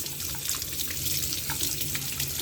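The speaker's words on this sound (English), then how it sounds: "I'm going to have to wash this spoon" A spoon rinsed under a running kitchen tap, a steady close rush of water splashing into a sink with no pauses and no talking.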